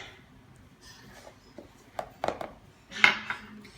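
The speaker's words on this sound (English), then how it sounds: "We're just going to mix it all together in this bowl." Soft butter, salt and vanilla are stirred together in a bowl for cinnamon roll icing, a few quiet clinks and scrapes of utensil against the bowl, growing busier toward the end.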